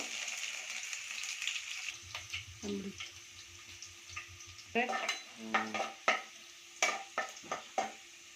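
Garlic and mustard seeds frying in oil for bitter gourd gojju, a steady soft sizzle with scraping stirs and light clinks of a spoon against the pan, over a faint low hum.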